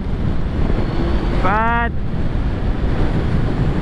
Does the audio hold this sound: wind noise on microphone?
yes